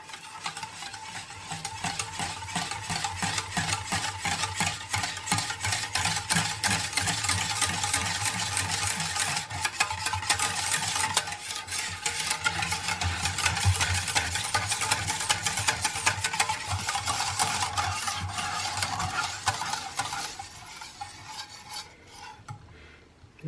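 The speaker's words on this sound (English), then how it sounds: "Then we'll whisk the yogurt in to combine together." Greek yogurt being whisked into chocolate mousse in a bowl, a steady, close rhythmic scraping and stirring that runs nearly the whole time, then eases off near the end.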